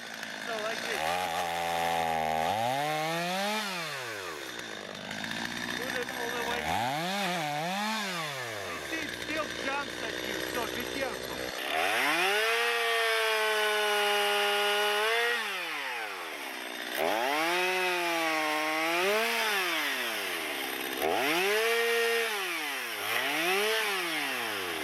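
A chainsaw revs repeatedly as it cuts through wood, its whine rising and falling in bursts, loud and close, with talking in between.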